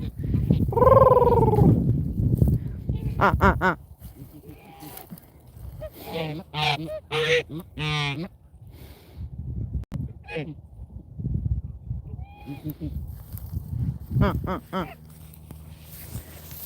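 A tiny cackling goose honks in sharp, repeated bursts, close by, with a gaggle nearby; calls come in short clusters separated by pauses, and a voice speaks between them.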